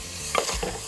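Green chillies drop into a hot pan and start to fry, giving a short burst of sizzling and stirring that lasts under a second, close and fairly quiet.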